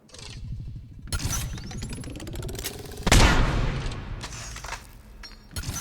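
Kishock harpoon gun firing in Mass Effect 3, two loud discharges with a whirring charge-up rising before each shot, a metallic ring trailing away, and a further impact near the end.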